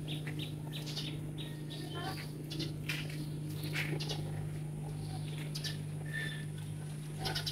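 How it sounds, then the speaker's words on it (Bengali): Birds call at dawn near an indoor room with potted plants, giving scattered short chirps and tweets over a steady low hum, some close and some distant. "পাখির ডাক শুনতে পাচ্ছ?"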